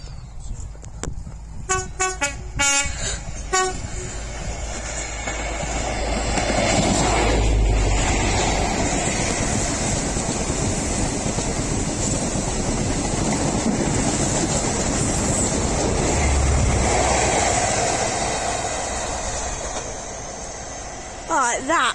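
A British Rail Class 43 high-speed train roars past, sounding its two-tone horn in sharp honks at the start as the heavy rumble swells and fades, with a voice talking over it.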